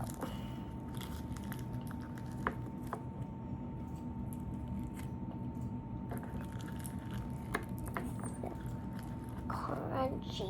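Slime is worked and squished by hand in a quiet room, giving faint, irregular sticky squelches and soft crunchy clicks over a low steady background.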